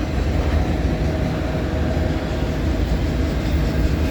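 A CSX freight train rolls past in Pittsburgh, Pennsylvania, a loud steady rumble and roar of rail cars close by without pause.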